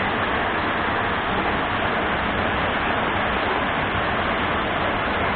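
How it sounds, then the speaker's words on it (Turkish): A waterfall in a canyon, called the Hidden Waterfall, pours with a steady, dense rushing roar. The sound stays continuous and even, with no voices over it. "Saklı Şelale'ye geldik."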